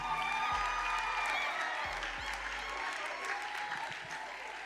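An audience at a leadership conference applauds after a pastor is introduced. The clapping is dense and sustained, with a few scattered cheers and whoops mixed in, and it fades slightly toward the end.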